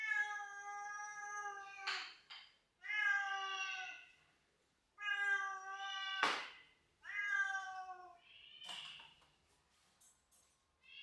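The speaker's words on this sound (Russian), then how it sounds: "я раздаю каждой кошке ее тарелку, и они начинают кушать." Several cats meow at feeding time one after another, loud, drawn-out cries close by with short pauses between them.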